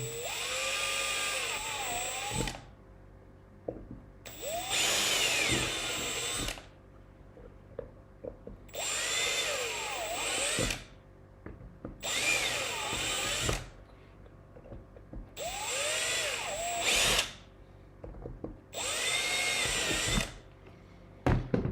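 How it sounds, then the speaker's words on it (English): A power drill runs in six separate bursts of a few seconds each, bored into a 3mm screw hole while building an Ethercon breakout, with brief pauses between, whining up and down in pitch close by. "so now just drilling the smaller hole for the screws."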